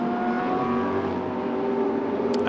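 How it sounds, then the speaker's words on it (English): An Audi GT2 race car accelerates hard down the pit lane at Paul Ricard, a loud, steady engine drone with rising tonal whine filling the whole moment. "The Audi thunders down the pit lane, no messing about there."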